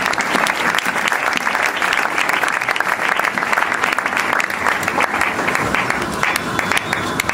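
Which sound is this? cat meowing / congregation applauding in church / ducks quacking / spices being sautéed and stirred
congregation applauding in church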